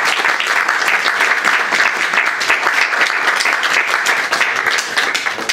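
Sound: applause

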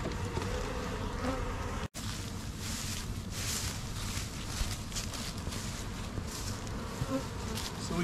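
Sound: honeybees buzzing

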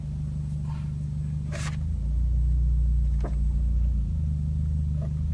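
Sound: Toyota Vios 2NR engine revving with aftermarket exhaust

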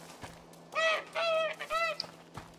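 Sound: goose honking in video game A Plague Tale: Innocence

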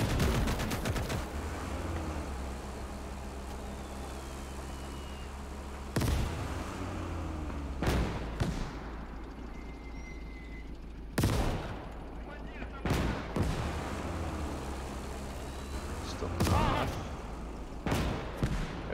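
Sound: mortar and gunfire in Gates of Hell: Ostfront (video game)

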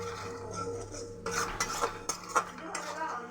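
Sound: spice paste being stirred and fried in a pan

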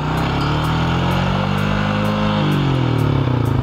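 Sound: Cummins P7100 diesel engine revving up after load removed

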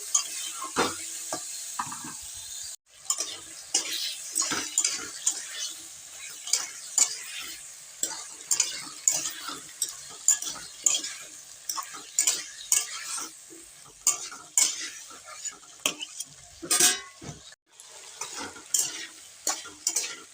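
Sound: sautéing egg curry masala in a pan

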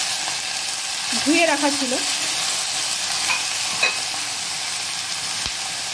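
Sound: taro flowers added to frying onion, garlic and chillies

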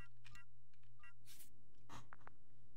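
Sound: telephone number being dialed in video game Shadows of Doubt

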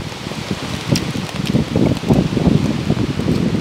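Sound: rain falling during a mountain hike

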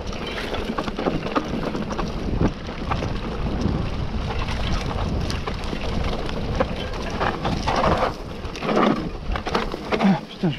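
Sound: rain

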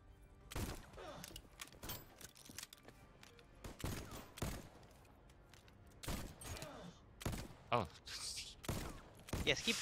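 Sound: gunfire in video game

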